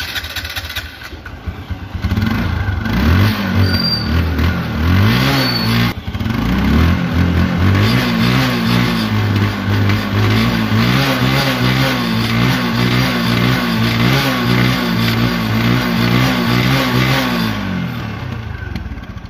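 A TVS Apache RTR 150cc motorcycle engine starts up and revs up and down repeatedly at close range, with a steady throbbing idle between loud rising revs.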